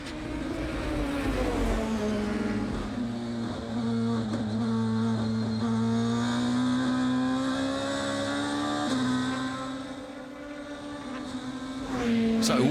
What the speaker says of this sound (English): Philipp Eng, we go on board with the BMW Team RBM driver who had such a brilliant start.